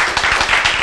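A church congregation applauds in a brief, dense burst of clapping that sounds close and fairly loud, with no voices over it.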